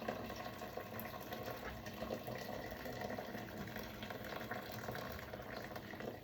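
A pot of arroz caldo rice porridge bubbles at a rolling boil, a continuous dense gurgling and hissing that stays steady and close throughout, with no voices over it.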